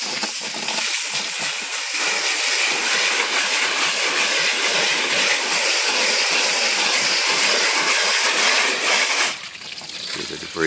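Garden hose spraying water onto a heat pump coil, a loud continuous hiss that runs steadily before cutting back sharply near the end.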